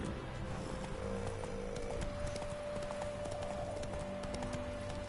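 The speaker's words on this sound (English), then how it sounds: "Whoa there, Roach" Horse hooves clip-clop steadily in The Witcher 3, a quick, regular patter heard throughout under ambient game sound.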